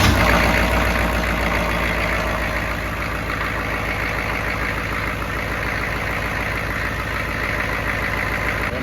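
A 1995 GMC 3500 diesel with a replaced engine idles steadily after starting, a continuous low rumbling clatter close by and loud from start to end, no talk.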